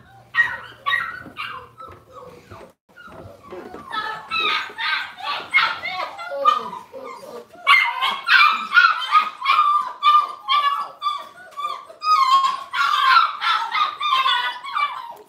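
Golden retriever puppies stuck indoors yip, bark and whimper in high, excited bursts that build into a near continuous chorus, with brief quieter gaps.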